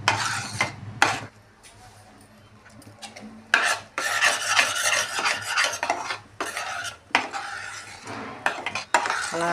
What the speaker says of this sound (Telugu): అడుగు పట్టకుండా దగ్గర కలుపుకోవాలి.